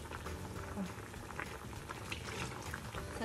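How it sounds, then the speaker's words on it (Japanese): A soy sauce, mirin and sake broth simmers over medium heat in a pot, bubbling quietly and steadily with soft, irregular pops close by. "これでグツグツ煮込んでいきます"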